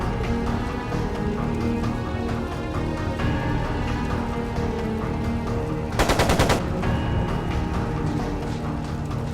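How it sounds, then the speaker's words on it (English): Machine gun fire from the Trails of Cold Steel 2 video game erupts as one loud, rapid burst lasting about a second, set against a continuous dense wash of game music and ambience. "It sounded like a machine gun"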